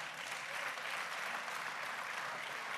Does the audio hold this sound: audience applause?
yes